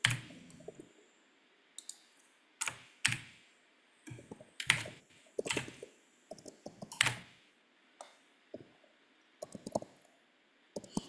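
Clicking keystrokes on a computer keyboard come in short uneven bursts during an online working-group meeting, close and fairly quiet, with no talk over them.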